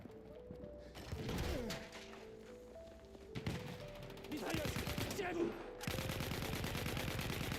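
Bursts of automatic and single gunfire from the video game Battlefield 1, loud and close, mixed with crashes, impacts and game effects across a busy battlefield.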